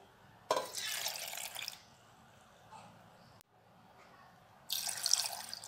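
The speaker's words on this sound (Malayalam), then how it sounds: "ഇനി ഇതിലേക്ക് നമുക്ക് ആവശ്യത്തിനുള്ള പാല് ഒഴിച്ച് കൊടുക്കാം." Milk pours into a mixer jar holding sapodilla pieces for juice, in two clear liquid bursts separated by a quieter gap, close and moderately loud with no talking.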